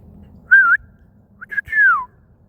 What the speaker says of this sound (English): That's a dog that knows how to come to his whistle.